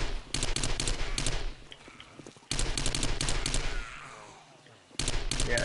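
Rapid bursts of automatic gunfire from a weapon in the survival game 7 Days to Die, two long volleys with a short quieter gap between them, loud and close, and a brief third burst at the end.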